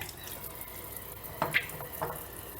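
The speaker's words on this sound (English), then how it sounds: "I have that raw egg on my hand and I'm gonna go rinse that off before I move on" Running tap water rinses raw egg off hands at a kitchen sink: a soft, steady flow with a few brief splashy bursts as the hands move under the stream, fairly quiet, with no talking.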